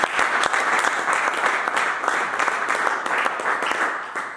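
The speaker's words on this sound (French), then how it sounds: "Acclame Jésus" A church congregation applauds loudly and continuously, a dense wash of many hands clapping that stays steady for several seconds with no break.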